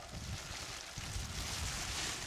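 A gust of wind buffeting outdoors while wild camping with a new tent, a continuous broad rushing roar with low rumbling microphone buffeting that swells slightly partway through.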